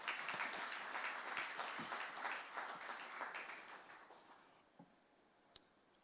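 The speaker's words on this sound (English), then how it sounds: "ladies and gentlemen, that deserves a round of applause" A crowd at a fundraiser gala dinner applauds steadily with dense clapping that gradually thins and fades out, ending in a few scattered claps.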